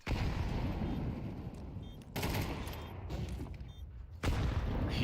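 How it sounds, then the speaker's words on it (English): A utility grenade barrage in a tactical shooter game: loud, continuous crackling blasts and booms that surge in three waves with brief drops between them, dense and close, with no talk. "Utility barrage is just coming in,"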